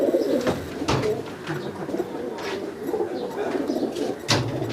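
Kalsare and Saharanpuri pigeons coo close by in a loft, low repeated throaty calls in an uneven rhythm, with a few sharp noises and faint background sounds between them.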